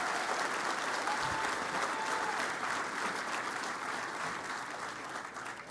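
A large crowd at a university's on-campus stadium groundbreaking ceremony claps in a sustained round of applause. It is loud and dense throughout and tapers a little at the close.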